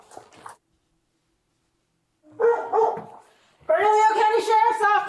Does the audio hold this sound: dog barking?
yes